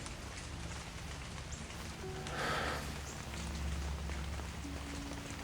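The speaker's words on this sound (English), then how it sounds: "I love it when it rains in the summer." Summer rain falling outdoors, a steady close hiss of drops on surfaces lasting throughout, with a brief louder swell partway through and faint low hum beneath.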